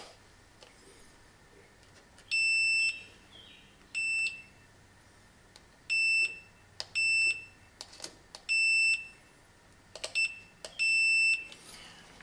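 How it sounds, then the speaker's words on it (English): Continuity beeps from a multimeter probing the inside of a Triumph Spitfire distributor: six or seven short, steady electronic tones in irregular bursts, clear and close over a quiet background. "all I'm doing there is just checking continuity throughout the inside of the distributor where I should have ground"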